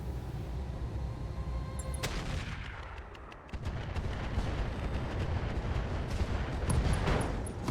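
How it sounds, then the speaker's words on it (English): Heavy ammo explosion in the mech strategy game RogueTech, a loud booming blast with a dense rumbling roar that dips briefly, then swells again into sustained crackling detonations, with no talk. "That's an ammo explosion there."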